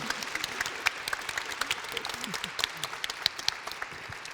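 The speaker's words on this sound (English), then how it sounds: "Give her a round of applause" A modest crowd claps after a speaker at a women's event, with scattered individual hand claps that stay distinct rather than blending into a roar, moderately close.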